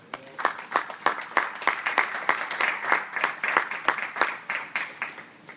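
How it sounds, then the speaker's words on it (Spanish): Applause from a crowd at a church Christology class, a burst of sharp claps repeating in an irregular rhythm, moderately loud and steady throughout with no talking. "Un aplauso al Señor."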